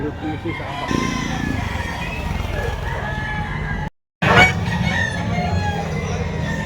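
Roosters crow repeatedly at a busy tiangge market in Batangas, loud and close amid clucking, with people talking throughout and a short gap of silence midway.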